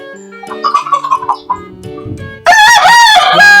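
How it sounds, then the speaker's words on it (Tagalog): Hens cluck in short bursts close by, then a pure white Kelso rooster crows loudly and long, drowning out the clucking. "Dito yung ating mga inahin. Ayan sila."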